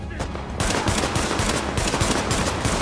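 Rapid gunfire in The Division video game on Xbox One, a dense, loud run of shots that starts after a brief lull and continues without pause.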